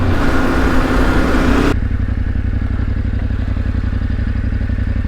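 A Yamaha Tenere 700 adventure motorcycle runs with its back wheel spinning, a loud, close, steady engine drone with a harsher rising rev at first that settles into a constant throbbing hum.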